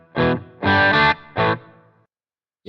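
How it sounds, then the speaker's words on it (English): A Harley Benton Fusion T electric guitar through an amp plays a few distorted, chorus-tinged chords in short bursts with gaps between, loud and close. "I wanted to play it through an actual amp, just so that I can actually really hear how the pickup sound"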